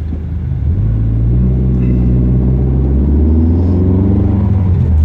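A car engine rumbles loudly and steadily while driving, its low drone rising in pitch as it gathers speed, heard close with no talking.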